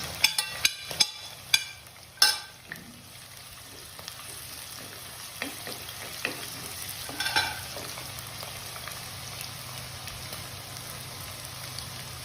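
Chopped garlic and ginger fry in hot oil in a pan for a Kerala-style sardine curry, opening with several sharp spoon clacks and stirring knocks before settling into a steady, close sizzle.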